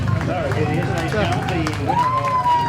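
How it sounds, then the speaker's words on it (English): Crowd applause at a National League speedway meeting between Isle of Wight and Kent, steady clapping heard under a commentator's continuous talk. "Ben Morley taking the applause of the crowd"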